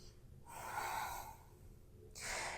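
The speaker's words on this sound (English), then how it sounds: "Take a breath" Two deep breaths during a vinyasa yoga flow, a long airy inhale followed by a pause and a second breath starting, close and alone with no talk.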